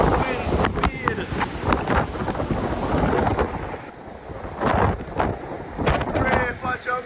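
Strong wind battering a microphone in Falmouth, Trelawny, Jamaica, after Hurricane Melissa, a constant roaring rush with heavy gusting buffets throughout.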